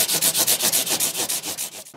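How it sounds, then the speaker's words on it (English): Sandpaper rubbing back and forth across guitar frets to round them, a steady run of about a dozen rhythmic scratchy strokes, close and fairly loud with no talk. "we'll do that with a few different grits of sandpaper to get them nicely rounded"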